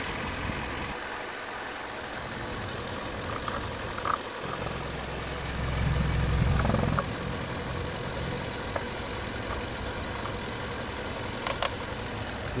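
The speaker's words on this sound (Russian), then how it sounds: "Двигатель работает исправно." A silver 2013 Kia K5 sedan in Incheon, South Korea, idles with a steady, even engine hum, a brief louder swell midway and a couple of faint clicks near the end.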